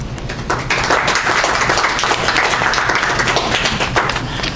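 Indoor audience applauding at a university library-week celebration, steady dense clapping with a few louder claps, sustained through the whole stretch without a break.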